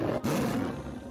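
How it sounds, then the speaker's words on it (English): A tiger roars loudly and close, a deep rough growl that holds steady with one brief break near the start, sounding alone without any talk. "Ooh, a ferocious tiger."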